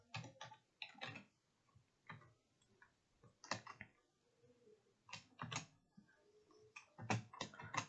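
Quick bursts of keystrokes on a computer keyboard while code is entered, clicking in short uneven runs with brief pauses, close and fairly quiet.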